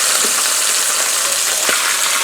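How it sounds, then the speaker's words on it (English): Pot roast meat browns loudly in a hot Le Creuset Dutch oven, a close, continuous sizzle with a faint scrape or two as it is moved. "the browning is taking place nicely here"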